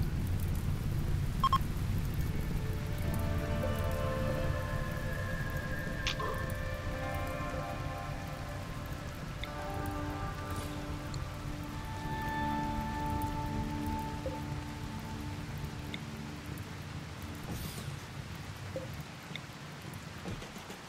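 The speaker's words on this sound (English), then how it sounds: "but it is raining." Rain in the video game RimWorld: a steady, soft hiss of rain on surfaces runs throughout under quiet game music tones, with one or two faint ticks and no speech.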